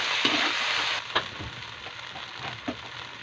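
Onion and tomato frying in a home pan, a steady close sizzle with a few scraping stir knocks against the metal, the hiss easing slightly after the first second.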